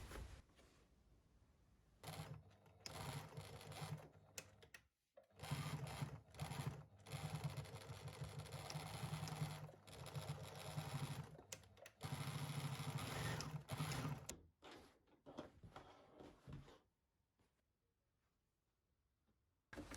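Sewing machine stitching the gusset of a simple fabric tote bag, running in steady bursts of close mechanical whirring with short pauses between seams, then stopping and falling quiet near the end.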